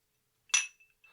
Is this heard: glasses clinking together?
yes